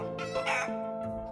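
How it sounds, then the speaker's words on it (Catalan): Hens cluck in a henhouse, giving a few close, throaty clucks in one short burst, with no talk. "anem a mirar les gallines si tenim algun ou"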